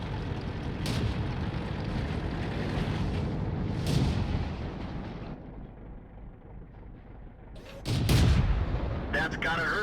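Tank cannon fire in World of Tanks: deep booming shots, one near the start, another around the middle and a loud heavy blast toward the end, over a rumbling battle background with a voice talking.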